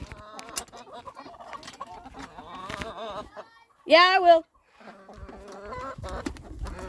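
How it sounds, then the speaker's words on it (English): Chickens in a farm pen cluck and murmur close by, with a louder squawk midway, while people talk over them. "Chickens."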